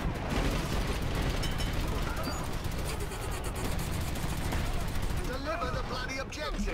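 Mounted machine gun fire in the shooter game Dirty Bomb, loud and dense, a continuous clattering stream of shots with explosive bursts across the whole stretch, with brief voices mixed in near the end.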